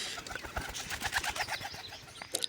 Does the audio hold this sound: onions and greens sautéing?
no